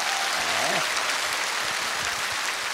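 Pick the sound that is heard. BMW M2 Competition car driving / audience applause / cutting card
audience applause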